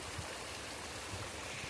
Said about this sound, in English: Got a little waterfall here down below